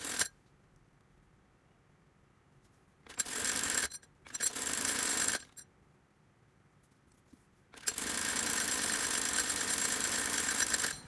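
A sewing machine stitches the leg cuff hem of a child's salwar in three runs, a short one, then a slightly longer one, and finally a long steady run. Quiet pauses fall between the bursts.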